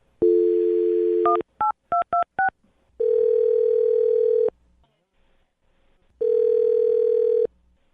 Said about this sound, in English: Curtis, I'm going to dial the phone number right now